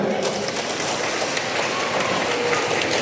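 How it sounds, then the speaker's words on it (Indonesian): An audience at an event for SD Frater Bakti Luhur gives the schoolchildren sustained, dense applause, an even wash of many hands clapping at once with no pauses. "mari kita tepuk tangan pertama untuk anak-anak kita"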